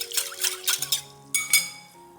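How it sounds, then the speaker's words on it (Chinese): Yeast stirred into cooled brown sugar water in a bowl, giving a string of light clinks and scraping taps of a utensil against the dish, close and fairly quiet, with no talk. "倒入酵母，搅拌均匀"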